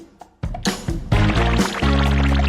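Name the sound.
water poured for drinking with chip pieces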